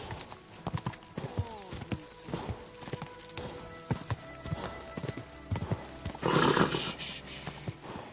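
In Kingdom Come: Deliverance II, a horse gallops with rapid rhythmic hoofbeats, neighs loudly near the end, and snorts amid the clatter, close and prominent with little talk.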